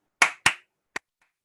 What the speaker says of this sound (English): let's try claps